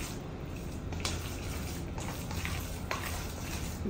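A spoon works a meat curry spice mix around a hot pan, a steady soft sizzle of frying with occasional scraping strokes, close and continuous.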